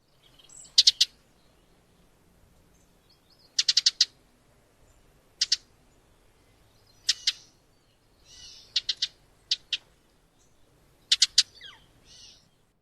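Bird calls including an owl, sharp chirps and short call bursts in clusters of two to four, spaced irregularly over a quiet background, fairly near and clear, no talking.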